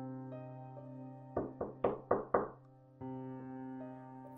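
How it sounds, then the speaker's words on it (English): Five soft knocks on an apartment door in a quick, uneven cluster, heard close over a steady low musical drone. "I heard a soft rapping on my apartment door whilst I was lying in bed."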